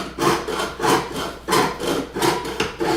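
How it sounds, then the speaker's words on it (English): Steady back-and-forth strokes of a hand saw biting through wood, a rhythmic rasp repeating about every half second, close and fairly loud. "most of the time, we're just sawing, going up and down"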